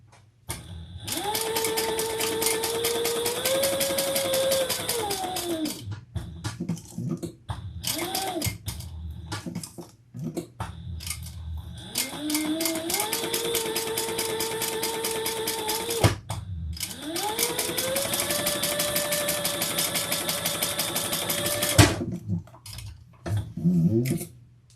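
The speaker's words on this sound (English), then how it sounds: "I'm going to do some chain stitching." A sewing machine chain stitching a mini tote bag, running in three long rapid mechanical bursts with brief pauses between, close and steady, its pitch rising as it speeds up.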